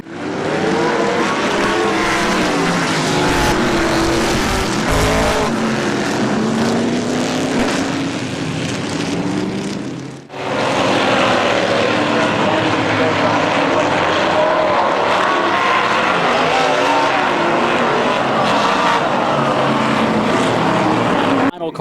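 Race cars circling a drizzly short-track speedway at Midvale, engines roaring loud and continuous with a commentator's voice running over the noise throughout.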